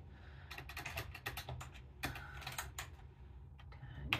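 Names being typed on a computer keyboard, bursts of quick, close key clicks in irregular runs with brief pauses between words.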